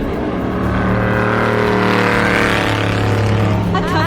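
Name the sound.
race cars driving past at Le Mans 2012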